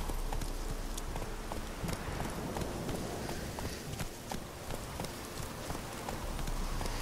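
Roach, Geralt's horse in the video game The Witcher 3, gallops with quick, steady hoofbeats that run throughout, set against a busy ambient bed with faint rain-like patter.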